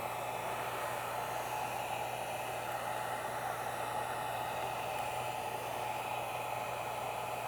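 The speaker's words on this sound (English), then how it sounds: "The low heat setting takes a little bit more time to shrink up the heat shrink, but it is a little bit safer to work with." Heat gun on its low setting shrinking heat shrink tubing over an M12 communication cable, a steady faint airy blowing hiss with a low hum underneath, constant throughout with no talk.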